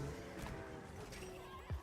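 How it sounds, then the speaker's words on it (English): A horse whinnies faintly in Monster Hunter Wilds, a short rising-and-falling call near the end over quiet game ambience. "The horse has arrived."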